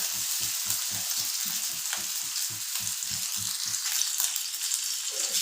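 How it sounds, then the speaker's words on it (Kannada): Pomfret fish sizzling and frying in oil on a tava over a low gas flame, a steady crackling hiss with rhythmic soft scraping or stirring taps, close and clear with no talk. "ಒಂದೊಂದಾಗಿ ಫ್ರೈ ಮಾಡ್ಕೋತೀನಿ ನಾನು."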